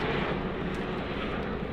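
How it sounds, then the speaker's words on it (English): A helicopter flies overhead outdoors, its engine and rotor noise forming a loud, steady broadband roar that fills the short stretch with no talking. "we'll wait for this helicopter to fly over"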